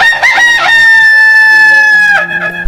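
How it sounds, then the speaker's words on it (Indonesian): A rooster crows at dawn, one long, loud, clear cock-a-doodle-doo held steady with rich harmonics, close by and alone, with a short second call starting at the end. "membangunkan ayam jantan agar berkokok lebih awal"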